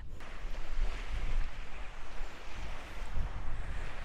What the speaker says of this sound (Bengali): জলের আওয়াজটা শুনতে পাচ্ছেন?